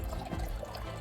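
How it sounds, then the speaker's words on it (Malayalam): Water running out from inside a small cave at Ilaveezha Poonchira gives a steady, close rushing wash that continues without a break for the whole moment, with no voices over it. "അതിൻ്റെ ഉള്ളിൽ നിന്ന് വെള്ളം വരുന്നുണ്ട്."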